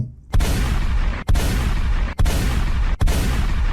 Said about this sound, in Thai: เสียงคนร้องสลับเสียงปืน ที่ระเบิดขึ้น สนั่นวันไหว